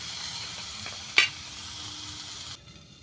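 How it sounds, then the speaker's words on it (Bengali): Green peas fry in a pan with a steady close sizzle and hiss, broken by one sharp metallic clink, before the sound drops to a quieter simmer near the end. "মটরশুঁটিটাও একটু ভেজে নিচ্ছি"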